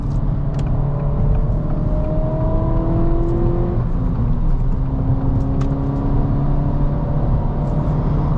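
A 2024 Acura Integra A-Spec with a six-speed manual gearbox revs up on a downshift while driving, a loud steady engine drone with rising and falling whine, and no voices.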